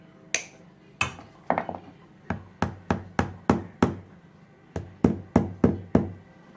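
Wire burr tapped down on a miniature dollhouse refrigerator: about fifteen sharp, close knocks, first scattered, then in two quick even runs with a short pause between.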